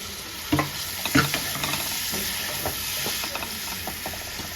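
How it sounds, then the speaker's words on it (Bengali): Potatoes coated in turmeric and chili spice mix fry in a pan while a spatula scrapes and knocks against it, a few sharper clanks early on over a steady close sizzle, with no speech. "এবার মশলাটা আলুর সাথে ভালো করে মিশিয়ে নেব"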